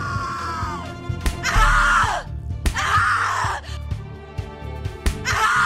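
A person screaming in the video game The Cat Lady: four long, loud, anguished screams in a row, separated by short gasps and groans, over a low droning background.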